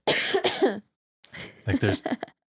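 A person coughs in two harsh bursts, a short burst and then a longer rougher run after a brief pause, close and fairly loud, with no talking.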